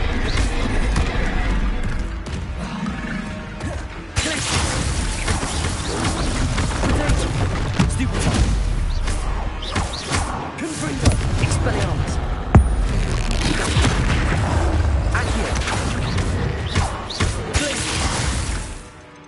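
Confringo and Incendio spell blasts from Hogwarts Legacy burst and crackle in a steady stream of fiery whooshes and crashing impacts, loud and continuous, with voices heard faintly beneath the clamor of the fight.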